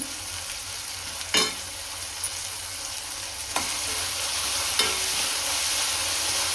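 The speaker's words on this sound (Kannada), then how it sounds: "ಚೆನ್ನಾಗಿ ಫ್ರೈ ಮಾಡ್ಕೊಳ್ಳೋಣ ಟೊಮೊಟೊ ಎಲ್ಲ ನೋಡಿ" Tomatoes and onions frying in a pan with turmeric and salt, a steady close sizzle broken by a few sharp spoon knocks against the pan as the mixture is stirred.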